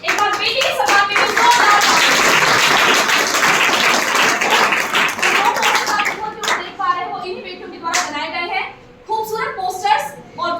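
A hall crowd at an inter-district anti-drug poster-making competition gives a prize winner loud, dense clapping for about six seconds, then it breaks into scattered claps under a speaking voice.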